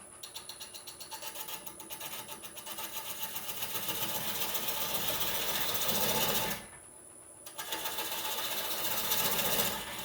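A wood lathe spins a rough cherry bowl blank cut from the log at roughly 450 RPM, giving a steady, loud mechanical whir with a rattling, grainy texture. The hum briefly drops out near the middle before resuming at full strength.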